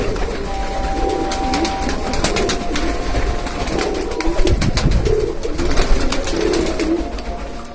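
Pet pigeons in a home loft eating freshly cut grass, their soft throaty cooing repeating close by over a constant background hiss.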